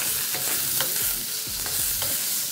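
Prawns sizzling and spread out in a hot wok, a loud steady hiss with several brief spatula scrapes and knocks spaced through it, nearby and without voices.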